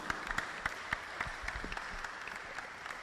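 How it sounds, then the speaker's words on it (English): A small audience at a talk on increasing longevity claps for the speaker, quiet scattered applause with a few distinct nearer claps standing out from a faint, thin background. "Let us clap for him."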